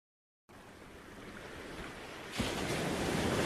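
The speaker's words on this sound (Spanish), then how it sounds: "El mar rompía suavemente contra la orilla, con un murmullo que casi parecía un suspiro humano" Sea waves break gently on a shore, a soft steady murmur of surf that swells into a fuller rushing wash partway through, with no voices.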